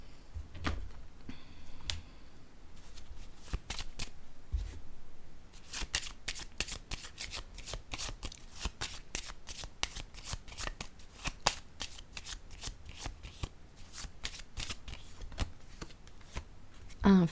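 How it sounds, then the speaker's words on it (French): Playing cards handled and shuffled up close, with a rapid, rhythmic series of crisp riffling clicks and slaps, plus occasional single taps as a card is laid down on a table. "Je vais déposer une carte ici."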